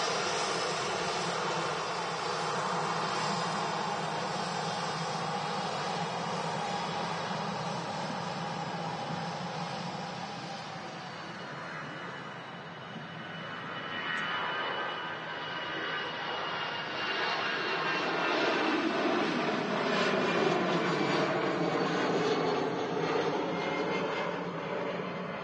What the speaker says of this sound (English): EasyJet departure there. Taking off.